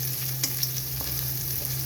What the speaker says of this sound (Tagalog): Igisa-gisa lang po natin siya. Yung ating siling labuyo.